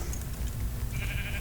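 Sheep bleat in a video game on a small island, a short burst of bleating above a dense, steady low rumble of game background noise.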